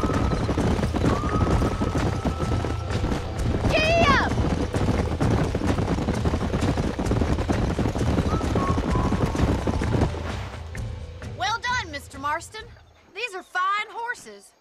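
Horse hooves clop steadily beneath ongoing ranch ambience in the Red Dead Redemption video game, with a brief whinny partway through and another horse call near the end as the background drops away.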